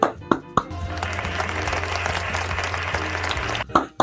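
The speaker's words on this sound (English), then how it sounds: "Give Lenny a round of applause" Audience applause from a class group, a steady wash of clapping for about three seconds, framed by a few sharp isolated claps at the start and end, with a low hum underneath.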